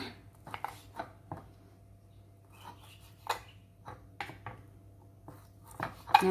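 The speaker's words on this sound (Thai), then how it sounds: "เดี๋ยวเราจะมาหั่นกุนเชียงนะคะ" A knife slices through Chinese sausage (kun chiang) for pan-fried eggs, giving close, sharp taps and cuts on a board in an irregular rhythm, separated by short quiet gaps.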